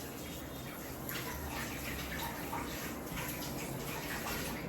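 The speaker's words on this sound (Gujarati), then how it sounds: "હવે આપણે હાથ ધોઈ લઈએ" Hands are washed under a running tap, giving a steady, close splash of flowing water with no talking.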